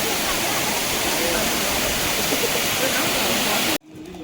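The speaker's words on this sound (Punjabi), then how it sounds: "ਆਵਾਜ਼ ਕਿੰਨੀ ਸੋਹਣੀ ਆਉਂਦੀ ਹੈ ਪਾਣੀ ਡਿੱਗਦੇ ਦੀ" A hillside waterfall in Coorg roars as a dense, constant rush of falling water, loud and close, cutting off abruptly near the end.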